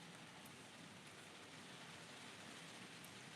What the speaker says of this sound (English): y'all hear that rain out here?